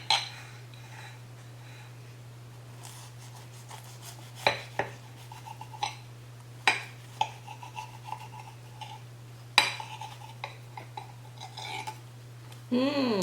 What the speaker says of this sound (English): I'm going to cut one open, see how it looks